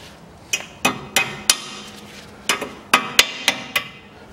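Several sharp metal hammer taps, close and loud, in an irregular run of about ten blows, bending the tip of a cotter pin over a nut while replacing the steering linkage and pendulum arm on a 2005 Chevrolet Niva 4x4.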